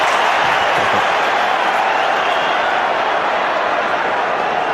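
Away football crowd at a Middlesbrough match taunting Ronaldo, a dense, loud, continuous roar of jeering voices filling the whole stretch with no breaks.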